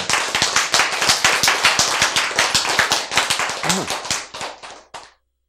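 A church congregation claps in unison during a sermon, a steady run of sharp, evenly spaced claps at a quick beat that ends abruptly after about five seconds.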